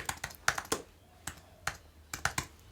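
Keys clatter on a computer keyboard in short irregular bursts, some quick clusters and some single taps with brief pauses between, close and fairly quiet.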